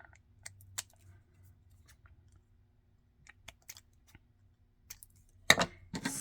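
Scissors snip through small plastic bread tabs, giving a few faint scattered clicks and then a couple of sharper cuts near the end, close and quiet, with no talk.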